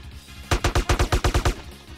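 A rapid burst of about eight loud, close gunshots in even rhythm rings out in GTA: San Andreas, framed by quiet on either side.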